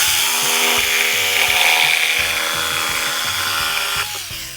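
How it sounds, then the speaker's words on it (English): A jigsaw cutting cup holder material for a boat, its motor whining steadily and loud up close with a buzzing reciprocating chatter, then easing off at the very end. "Then we'll get our jigsaw out and do a little cutting."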